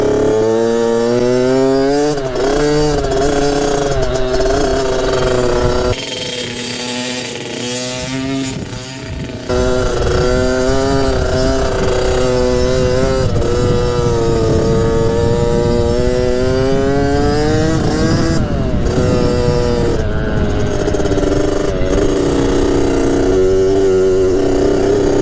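A rebuilt Kawasaki KX65 dirt bike engine runs loud and close, its revs climbing and falling through the gears with a buzzing two-stroke whine, briefly easing off before winding up hard again.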